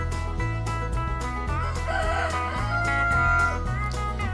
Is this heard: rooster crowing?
yes